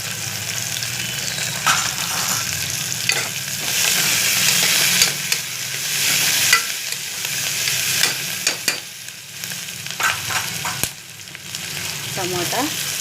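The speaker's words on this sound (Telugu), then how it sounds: "బాగా నూనెలో మగ్గించుకోవాలి. పచ్చిమిర్చి, ఉల్లిగడ్డ." Green chilli, onion and curry leaves fry in hot oil with a steady sizzle, broken up by the occasional scrape or stir of a utensil. No one speaks over it.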